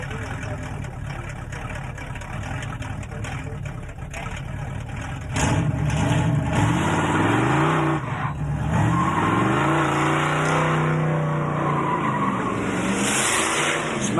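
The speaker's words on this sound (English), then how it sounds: "Has a 454 big block in this car." A 454 big block car at Summernats runs loud and steady, its engine revving with rising and falling pitch sweeps and tire squeal, building from a rumble to a fuller, sustained roar.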